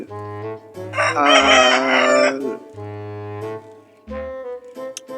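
A rooster crows loudly and close by in a long cock-a-doodle-doo, with shorter clucking calls before and after it and no talking.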